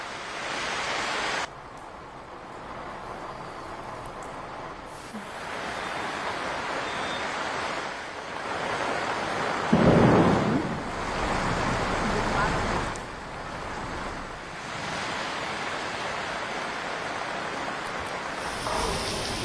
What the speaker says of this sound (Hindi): देखिए राजधानी दिल्ली में भी कैसे तेज बारिश हो रही है